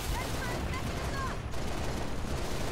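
Turrets fire in the Halo Reach video game, a dense, continuous rattle of rapid gunfire over game noise, steady and loud throughout.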